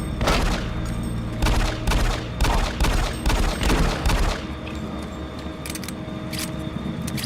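Rapid bursts of gunfire from the video game Doom 3 crack out close and loud for about four seconds, then thin into a steady low hum of game ambience.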